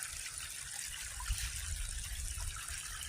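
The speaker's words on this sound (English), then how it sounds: "There's two waterfalls right there." Creek water flows near waterfalls in a wintry outdoor setting, a steady close rushing and trickling that stays even throughout, with no voices.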